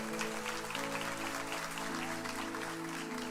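A church congregation applauds during a Brazilian service, a steady wash of clapping under sustained organ or keyboard chords, moderately distant.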